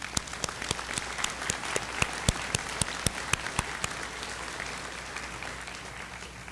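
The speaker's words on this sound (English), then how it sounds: "let's give our parents a round of applause" Graduation-ceremony audience applauding the parents at a high school commencement: steady dense clapping from a large crowd, with a few sharper close claps standing out, sustained throughout and easing slightly toward the end.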